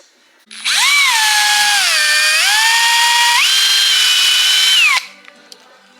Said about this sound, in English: I got a drill with a little countersink